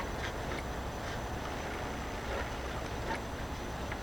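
Gears of a 1969 Bolens 850 transaxle spin freely in neutral, giving a low, steady rumbling whir with faint intermittent ticks, heard close and with no talking.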